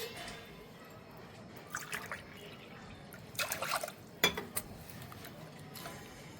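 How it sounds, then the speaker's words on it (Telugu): Water trickles and splashes onto washed toor dal in a pot, soft and close, with a few stronger pouring bursts near the middle and slight clinks of the vessel. "ఒక 3 గ్లాసుల వరకు వాటర్ వేసుకోవాలి"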